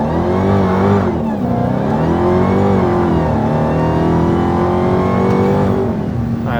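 A 2020 Dodge Charger Widebody Hellcat accelerating hard with tires spinning, its engine roaring loud and steady with rising pitch sweeps as it pulls through the gears, heard from inside the car.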